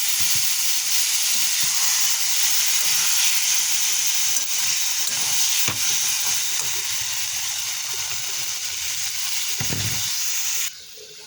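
Steady loud hissing sizzle fills the whole stretch, like liquid hitting a hot pan, with a brief clatter near the end before it drops.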